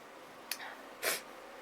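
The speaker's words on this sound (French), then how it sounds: "Et je vais encore éternuer, c'est pas possible ça." A person sneezes twice in quick succession, a short sharp burst followed by a stronger, louder sneeze about half a second later, close to the microphone in a quiet room with no talk.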